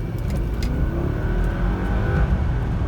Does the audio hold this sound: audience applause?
no